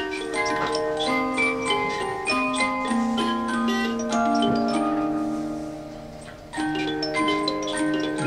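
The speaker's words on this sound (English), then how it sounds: "what we have here is a great wind-up Christmas tree stand, circa 1890s, early 1900s" Antique wind-up musical Christmas tree stand from around the 1890s to early 1900s, its bottom music box plinking a steady melody of bright comb notes alongside a faint ticking mechanism, close and clear with no talk.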